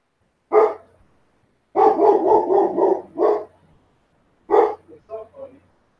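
A neighbour's dog barks nearby in short bursts: a single bark, then a rapid string of four or five, then another bark followed by softer yips, with quiet gaps between them.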